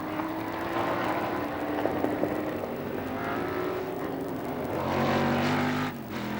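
Formula 5000 race cars at full speed around Oran Park in a 1979 race, a steady loud engine roar that swells as cars pass close by and then drops away.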